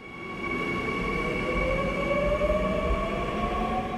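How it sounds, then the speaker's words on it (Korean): Seoul subway Line 2 train at Gangbyeon station, a steady rolling rumble with high whining motor tones that slowly rise in pitch, moderately loud and continuous without talk. "이곳은 지하철 2호선 강변역입니다."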